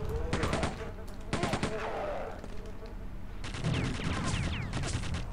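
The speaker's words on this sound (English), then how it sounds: "And this is the machine gun." Quake II machine gun fires in two short rapid bursts, then a longer burst with metallic clatter, loud and close in game audio.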